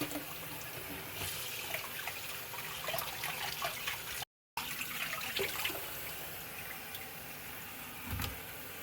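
Cold tap water runs steadily over raw tilapia fish in a sink, a continuous close splashing rinse with no talk.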